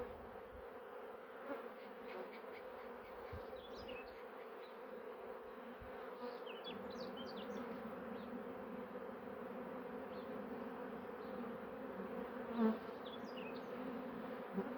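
Honeybees at an open beehive make a steady, faint drone, with single bees buzzing past close by now and then and a few soft knocks from handling.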